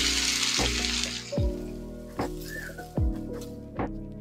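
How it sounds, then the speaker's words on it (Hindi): Chopped onions with cumin fry in a pan. A hissing sizzle opens, then softer frying sits under repeated scraping stirs from close by. "अब हम प्याज को फ्राई कर रहे हैं जब तक प्याज ब्राउन ना हो जाए।"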